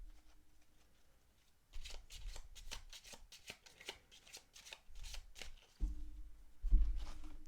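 Small tarot cards are shuffled by hand, close up, in repeated riffling bursts of rapid papery flicks with short pauses between them. Faint handling thuds come in at the start and end.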